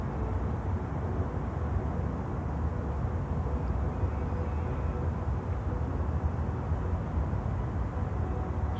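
Steady, loud broadband rotor and engine drone from a helicopter in flight in Microsoft Flight Simulator 2024 career mode over New York City, continuous and even throughout with no talk.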